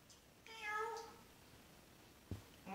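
A cat meows once, a clear drawn-out call near the mic in a quiet room, followed later by a brief faint thump.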